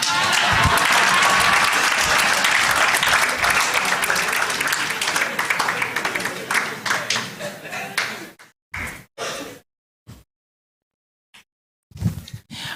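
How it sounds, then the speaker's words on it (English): Loud, dense audience clapping fills a citizen assembly hall on debt and anti-corruption, then thins into scattered bursts and isolated claps with brief silences as it dies away. "you still clap for me"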